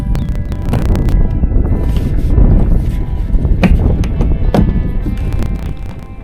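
Wind gusting across Tooke Lake around a Wilderness Systems Tarpon 160 kayak, a steady loud low rumble buffeting the microphone throughout with a few faint knocks.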